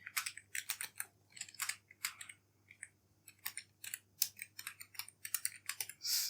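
Keys clatter on a computer keyboard as C code is typed, in quick irregular bursts of close clicks with short pauses between them.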